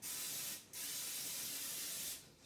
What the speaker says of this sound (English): we'll just lightly spray it with a little bit of vegetable oil